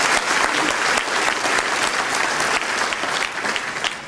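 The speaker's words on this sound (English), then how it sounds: "So let's give them a round of applause" A civic audience at a State of the City address claps for city clean-up volunteers, steady dense applause filling the room from start to finish with no voices over it.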